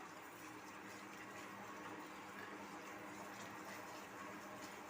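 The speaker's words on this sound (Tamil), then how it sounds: "பாகு நல்லா கொதிக்குது." A steady, dense bubbling hiss of sugar syrup boiling in a pan for peanut candy, continuous and close, with no pauses or talk.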